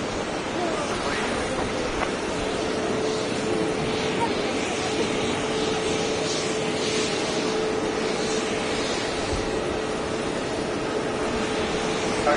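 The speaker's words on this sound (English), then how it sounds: "Plane!" An airplane passes at Boston Logan Airport, a steady broadband roar that holds at a fairly even level for about twelve seconds, mixed with wind buffeting the microphone.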